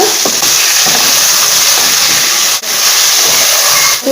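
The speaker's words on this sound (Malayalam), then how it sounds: "നമുക്ക് നമ്മുടെ ഏത്തപ്പഴം കൂടെ ഇട്ട് കൊടുക്കാം ഒരു പഴം ഈ നെയ്ക്കകത്ത് കിടന്ന് ഒന്ന് ജസ്റ്റ് ഒന്ന് വഴറ്റിയെടുക്കുക" Plantain pieces frying in ghee in a pan, a loud continuous close hiss of sizzling fat with two brief dips in level.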